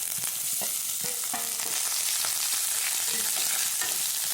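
Cauliflower with coconut and ginger-garlic paste frying in coconut oil in a pan, a constant close sizzle broken by repeated scraping, clinking stirs, with no voices.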